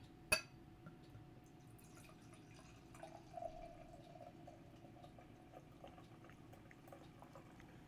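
Stout beer is poured slowly into a glass, giving a faint, steady liquid trickle and a few soft drips in a quiet room, with one sharp click near the start.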